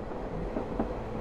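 Steady rumbling train noise from the PC mystery game Runaway Express, a continuous low roll with faint rattles and no distinct clacks, heard alone at an even level.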